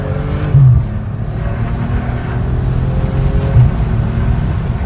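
A 2015 Maserati Quattroporte accelerating on a test drive, its engine a steady, fairly loud cabin rumble with a slight rise in pitch, unbroken and with no voices over it.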